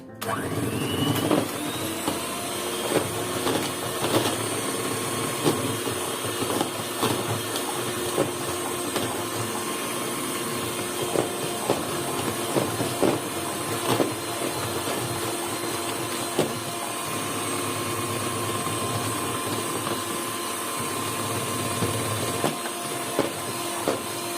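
An electric mixer beats chocolate chip cake batter, a steady, continuous whirring motor hum with the faint rattle of beaters in the bowl that stays constant throughout.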